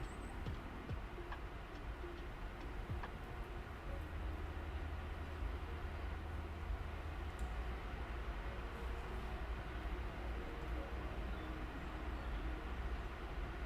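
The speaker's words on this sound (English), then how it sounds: "I think there are a few trains, a few electric trains that sound like that" An electric train in the video game Train Sim World 5 runs along the track with a steady, low rumbling drone and faint regular ticking clicks throughout, with no talk over it.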